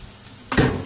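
Bacon and onions browning in a frying pan, a soft sizzle that swells suddenly halfway through as food hits the hot fat, close and steady with no talking.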